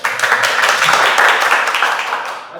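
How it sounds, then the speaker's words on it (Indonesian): Classroom audience applause during an artificial intelligence lesson, lively close-up clapping from a group that swells quickly, holds strongly, then tapers off near the end. "Tepuk tangan dulu."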